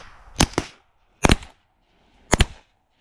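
Shotgun blasts during duck hunting in South Dakota: three sharp bursts spaced about a second apart, the first two pairs of quick doubled reports, loud and close with a brief decay after each and no talk.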